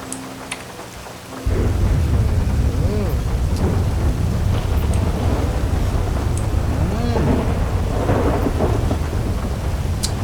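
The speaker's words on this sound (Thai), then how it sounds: "ขอเสริมฟ้าผ่าหน่อยนะผม" Thunder and steady rain in the video game GTA V, a constant heavy downpour with low rumbling thunder that swells in after a quieter start and keeps rolling throughout, loud and close.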